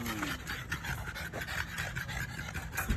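French bulldog puppies breathing and panting close up in a fast, steady, raspy rhythm that fills the whole stretch without pause, with a faint whimper.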